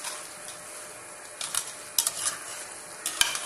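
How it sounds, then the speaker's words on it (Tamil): Marinated rice gets stirred into mutton dum biryani in a pot, a soft steady sizzle broken by several sharp scraping and clinking strokes of a spoon against the vessel, close and without talk. "அரிசி நல்லா உடையாத பார்த்து கலரி விடணும்"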